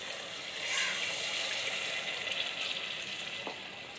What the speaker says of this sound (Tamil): அதில் 2 டம்ளர் அளவுக்கு நம்ம தண்ணி ஆட் பண்ணிக்கலாம்